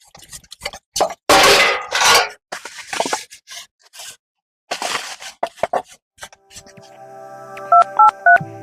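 A phone number is keyed in near the end as a quick run of bright DTMF beeps, following a stretch of talking with clattering household noise in the background.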